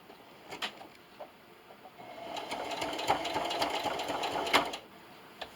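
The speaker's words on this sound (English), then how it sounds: "And continue to sew all the way down the side." Sewing machine stitching a fabric seam down the side of a microwavable popcorn bag, a few short taps first, then a steady whirring run of about three seconds, close and moderately loud.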